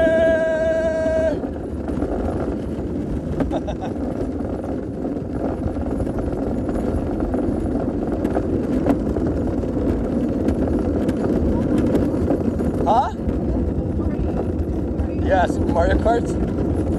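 Kart engines in the Mario Kart video game, a steady loud buzzing drone that runs through the whole race with a brief musical jingle at the start, while voices talk over it.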